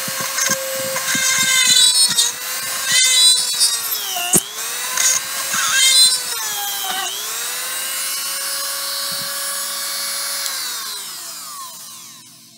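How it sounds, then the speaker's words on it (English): A WEN 2305 rotary tool set to speed 10 drives a larger drill bit through a semi-sloped surface, a loud high whine that dips in pitch as the bit bites, then runs freely and winds down at the end. "see if we can drill through on this semi-sloped surface. Once again, speed is on 10 with the drill bit."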